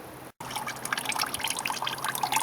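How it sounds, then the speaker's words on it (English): Engine oil drains from a Yamaha F350 outboard motor after about 10 hours of running, a steady light trickle and dribble of liquid that carries on evenly after a brief cut. "So we'll let that drain for a bit until it's all out of there"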